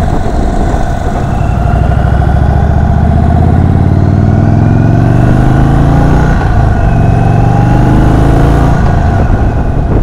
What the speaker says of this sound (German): Die Klappen sind im Moment nicht offen. Das ist der echte Motorsound.